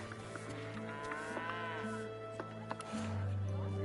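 Cows low repeatedly in Divinity: Original Sin 2, a string of long moos over a constant droning game ambience, with a louder low rumble swelling near the end.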